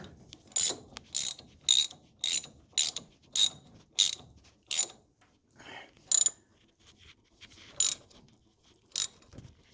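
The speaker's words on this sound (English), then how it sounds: "Now finish tightening it down." A ratchet wrench tightens the steering shaft bolt during a steering shaft and bearing upgrade on a G-body car, giving about a dozen crisp, close ratcheting bursts in a steady rhythm with short pauses, with no talking.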